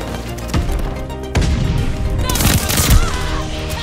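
Loud gunfire bursts in a video game firefight, where shotguns are in use, with several sharp blasts over a steady roar of battle noise.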